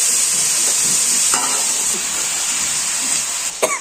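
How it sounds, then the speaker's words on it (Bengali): Meat being cooked down (kosha) in a pan sizzles with a steady, loud frying hiss, stirred occasionally, with a few clinks near the end. "আজকে মাংস রান্না করতেছে"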